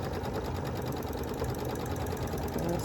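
Domestic sewing machine stitching a quilt, a steady close mechanical whir with a rapid, even rhythmic clatter throughout, no talking.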